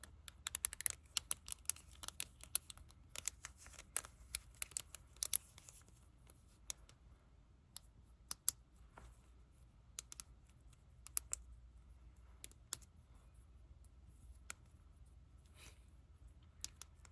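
Small plastic wacky tracks fidget toy clicking close up in a quiet room, a dense run of sharp little clicks in irregular bursts that thin out into sparser, scattered snaps.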